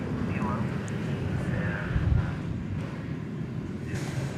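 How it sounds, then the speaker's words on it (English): Continuous, fairly loud rumbling roar of an airplane moving at DFW Airport, steady over the whole stretch with faint background voices. "Okay, this plane is moving now."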